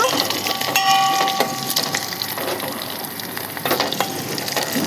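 Dried red chilies, curry leaves and turmeric tempering in hot oil for a brinjal tamarind dish, giving a steady close sizzle and crackle with brief faint tonal clinks from utensils.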